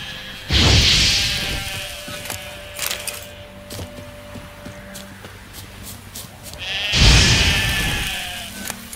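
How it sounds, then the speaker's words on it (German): Sheep in The Witcher 3 give two loud, close bleats several seconds apart, with game ambience, soft thuds and faint tones in between. "ich bring Schafe um"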